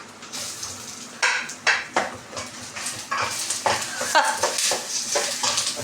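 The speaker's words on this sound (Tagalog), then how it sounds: "Saute lang ang onion." Onion sautéing in a pan for Bicol Express, with rhythmic scraping and clinking of a utensil against the pan over a steady sizzle, close and fairly loud.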